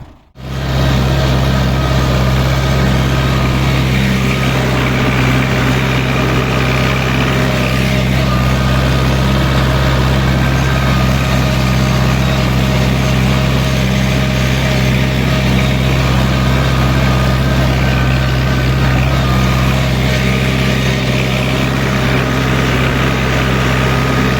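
A KENTAVR 404SD tractor with a 2-30 plow drives out to plow an old alfalfa field, its engine running loud and steady at close range for the whole stretch, with no talking.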